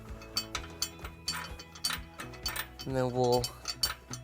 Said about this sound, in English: turn the bolt head from the other side until it is attached